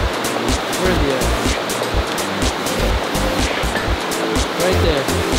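Loud, steady rushing of a mountain river in Montana, a dense broadband roar filling the whole stretch, with rough wind-like buffeting underneath.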